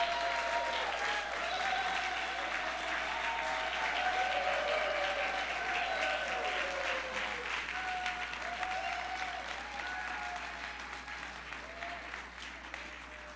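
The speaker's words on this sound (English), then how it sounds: "Let's give him a round of applause." Audience at a church Sunday service applauding, a sustained wash of clapping from a crowd that holds steady for several seconds and then gradually thins and fades.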